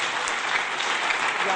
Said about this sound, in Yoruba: ẹ pàtẹ́wọ́ ńlá fún Jésù.